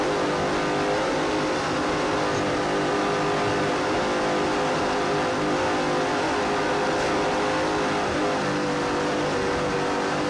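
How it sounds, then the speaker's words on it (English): Racing powerboat engines roar continuously at full throttle during a race start, a loud, dense, unbroken drone that holds steady throughout. "Just listen to those engines."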